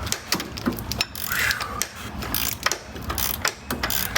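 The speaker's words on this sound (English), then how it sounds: "Just stick the puller on there and pull." A puller works an old engine pulley off its shaft, giving a close series of sharp ratcheting clicks and metallic knocks in uneven bursts.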